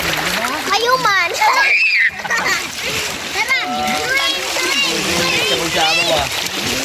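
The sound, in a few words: child splashing in water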